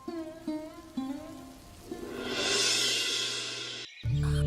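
Steady hiss of rain swells and fills a cartoon scene, with a few soft knocks early on and a louder rumble at the end.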